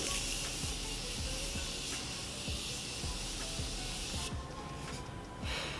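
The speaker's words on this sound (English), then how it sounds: "she's going to spray her face with the Morphe Continuous" A close, steady hiss of Morphe Continuous Setting Mist sprayed onto a face, a dense continuous mist lasting several seconds before cutting off near the end, with no voices.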